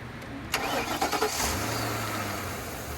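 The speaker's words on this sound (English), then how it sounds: "I went ahead and put the cap back on and started the engine" A 2010 Mercury Grand Marquis engine cranks with a sharp starter burst, catches and settles into a steady low idle, heard up close with no talking.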